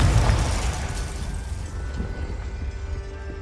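Confringo spell explosion in the Hogwarts Legacy video game: a loud, close blast that bursts at once, then a long rumbling tail slowly fading away, with no talk.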